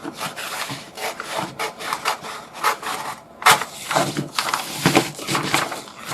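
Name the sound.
cutting out paper for craft journal page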